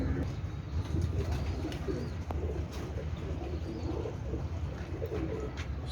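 Breeder pair of pigeons cooing steadily close by, soft low repeated coos over a continuous background hum with an occasional faint chirp.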